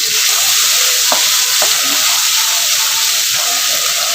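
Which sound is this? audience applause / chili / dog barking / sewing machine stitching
chili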